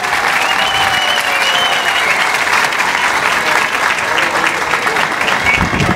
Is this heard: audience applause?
yes